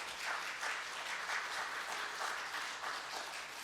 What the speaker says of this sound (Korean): 우리 잘 오셨다고 박수 한번 해주시면 감사하겠습니다